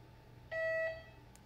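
A single electronic beep from an X-ray system as the prep exposure switch is pressed, a clear steady tone lasting about half a second over low room hum, with no talk.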